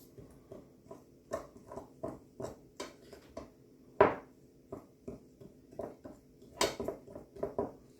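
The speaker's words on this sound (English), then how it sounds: "So we'll put in our 2 tablespoons of butter. Stir this up till we get a little bit of a crumble here." Butter being stirred into dry muffin mix in a bowl for a streusel crumble topping, a steady series of close, soft scraping taps from the spoon against the bowl, with one sharper clink midway and no voices.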